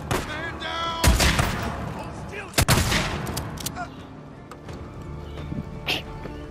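Shotgun blasts in a video game ring out as several sharp, loud bangs spaced over a few seconds, with someone talking faintly between them.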